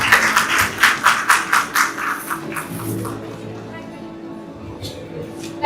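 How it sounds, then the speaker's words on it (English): Audience applause for diploma students at a college merit day ceremony, a burst of clapping that fades out after about three seconds, leaving quiet room noise. "Kindly give them a big round of applause for their outstanding performance."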